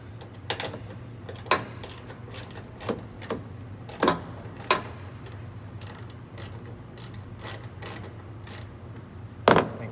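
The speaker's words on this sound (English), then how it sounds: "we've got our T25 socket here and our ratchet, so we're going to go ahead and loosen this up, the two bolts here" A ratchet with a T25 socket loosens the two bolts on a car tail light: a string of quick, light clicking bursts at an irregular pace, close but fairly soft over a low steady hum.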